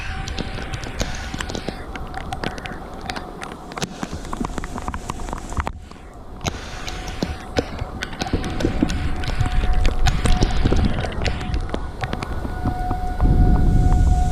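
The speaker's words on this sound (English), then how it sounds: "There's the thunder." Thunder rumbles low and heavy during a tornado-warned spring storm in the Carolinas, swelling louder toward the end over steady pouring rain, with a faint distant siren tone running underneath.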